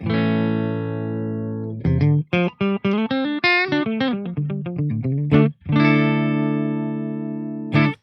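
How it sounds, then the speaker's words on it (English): Electric guitar played through a Super Reverb 60-watt tube amplifier, with sustained chords ringing out, a quick run of picked notes in the middle, then another long held chord and a short final stab, loud and clean. "now on a super reverb, that's a 60 watt tube amplifier"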